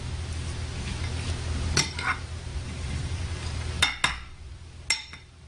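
Moong dal salad being stirred in a bowl, a soft continuous scraping and tumbling broken by a few sharp clinks of a utensil against the dish near the end.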